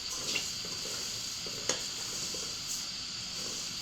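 Spices dry-roasting over a medium flame for homemade kuzhambu chili powder give off a faint, steady rustle with a few soft clicks of stirring, and no one speaks.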